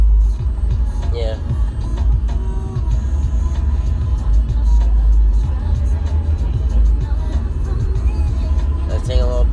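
Car driving along a 35 mph road, with a steady low engine and tire rumble throughout and a few faint higher clicks and thumps from inside the cabin.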